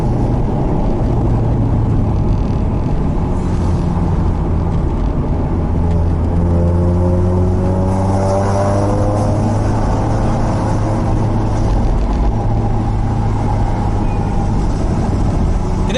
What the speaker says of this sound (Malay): Kita ni memang suka gila blip throttle, baru enjin tu terjaga